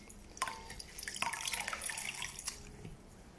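Water splashes and drips while a face is rinsed at a sink, with soft irregular splashes close by and no talking.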